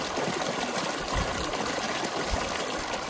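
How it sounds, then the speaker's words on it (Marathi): A monsoon stream in the rainy Sahyadri hills gurgles over stones, a close, continuous babbling rush of water with a few low splashes and no voices. "पाण्याचा खळखळ आवाज येतो."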